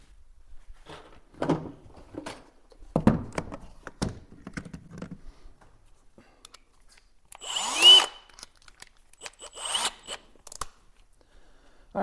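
A power drill whirs in a few short bursts between clunks and rattles of handling, with one brief rising whine near the end; the work on a YakAttack Blackpak Pro crate is close by, and nobody speaks.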